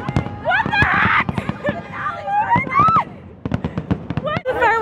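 Fireworks from a Fourth of July show finale, heard from some distance as a rapid series of sharp pops and bangs with whistling, crackling trails, under excited voices of people nearby.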